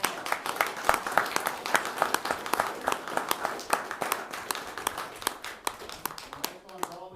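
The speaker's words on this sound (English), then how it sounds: "Let's give him a big round of applause." A crowd at an Escalon city council meeting gives a Cub Scout pack a big round of applause: dense, steady clapping that holds for several seconds and thins slightly near the end.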